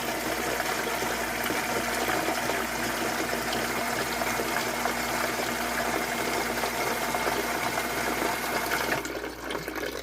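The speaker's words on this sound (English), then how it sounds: "the blue pump kicked in and it's going to suck the water down" A blue electric sump pump runs steadily in a basement pit, pumping water down with a continuous whirring hum and gushing flow, close and unbroken.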